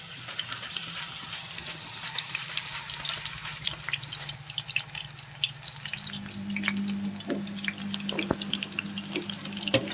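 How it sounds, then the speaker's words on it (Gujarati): Raw banana slices hit boiling oil and fry into wafers, a continuous bubbling sizzle with scattered crackling pops and a low hum underneath, steady throughout. "તેલ ઉકળી ગયું સ્લો કરી હવે આપણે વેફરને પાડી લઈએ"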